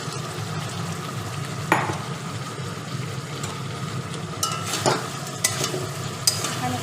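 Spice paste sizzling steadily in a pan for a cauliflower and potato curry, with a spoon scraping through it now and then in a few sharp, distinct strokes. A single word is spoken briefly.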